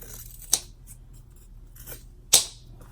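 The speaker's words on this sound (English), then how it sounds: "Okay, and then I just trim a little bit more of this. Okay, I'm going to cut over here." Scissors cutting fabric while trimming excess from an in-the-hoop zipper bag, two sharp, close snips about two seconds apart, with faint rustling in between and no talk.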